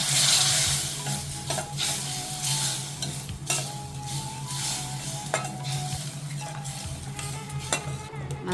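Masala paste for a chickpea curry sizzles steadily in a pan. A spoon scrapes and clinks against the metal at irregular moments, close and fairly loud, with no voices.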